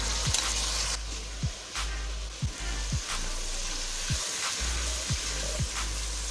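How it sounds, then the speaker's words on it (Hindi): Beef sizzling and frying in a pan while being stirred, a steady hiss with repeated short scrapes of a spoon against the pan at a fairly regular pace, close and clear with no talking. "ये गोश्त हमारा फ्राई हो गया। अब इसमें हम दही शामिल करेंगे"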